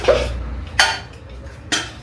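Big metal pots, a pressure cooker and a kadhai are washed by hand, with three sharp clanks and scrapes spaced under a second apart, each ringing briefly before fading into quiet water and rubbing noise.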